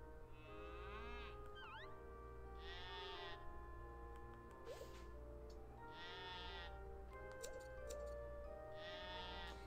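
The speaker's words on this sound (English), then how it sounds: "I like how it's a black nose sheep" A black-nosed sheep in the Harvest Moon: One World farming video game bleats in three short, evenly spaced calls, with a steady farm ambience beneath and no talking.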